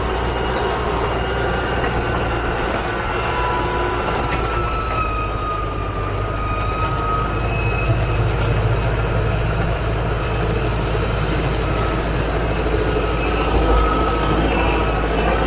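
A Kubota tractor engine drones loud and steady while rotary tilling a field, a constant low rumble with mechanical whine, continuous throughout with no talking.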